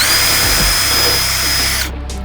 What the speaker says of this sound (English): take a small drill bit here, size anything under 1/8 inch is going to be fine, and then just drill 2 holes here in the back